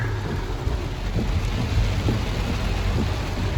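Steady, heavy rain pours down throughout, with low rumbles of thunder rolling underneath and no voices.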